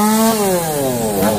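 A saw cuts down a king palm tree beside a house, a loud, close, steady whining drone with a pitch that sags and then rises again as the blade bites.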